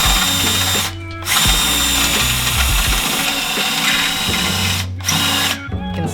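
A power drill bores out old rivet nuts on a Subaru WRX STI being fitted with an EG33 turbo engine, whining loudly in long bursts with a short pause and two brief stops, close up and without talk.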